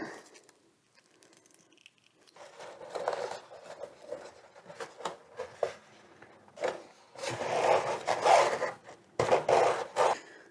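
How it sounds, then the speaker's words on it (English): Velcro strip being cut with scissors while fitting a battery mount on an H-King Wargo Extreme 3D model airplane, heard as close, quiet snipping, rubbing and rasping handling sounds in irregular bursts, growing louder near the end. "take the opposite side of your Velcro and find out the best place to mount that. Go ahead and cut that."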